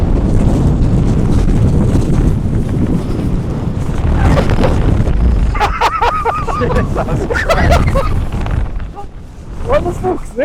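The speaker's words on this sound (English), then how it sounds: "They're like 40 miles an hour gusts out, like." Gale-force gusts of about 40 mph on Helvellyn roar and buffet across the microphone in a loud, constant rush, with excited voices shouting over the wind.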